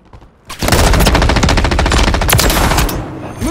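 Sustained automatic rifle fire from an M13B assault rifle in Call of Duty MW3 Team Deathmatch on the Wasteland map, loud rapid bursts starting abruptly and running continuously for over two seconds before cutting off.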